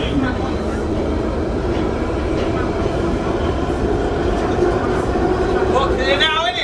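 Steady rumble and rolling rail noise of a moving train heard from inside a carriage, continuous and fairly loud throughout, with faint voices in the background.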